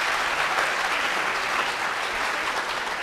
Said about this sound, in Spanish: Le damos un fuerte aplauso para recibirla.